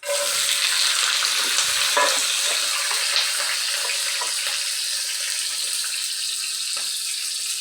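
Capsicum and onions frying in oil in a pan, a steady broad sizzle holding at an even level throughout, with occasional faint scrapes and stirring clicks over it.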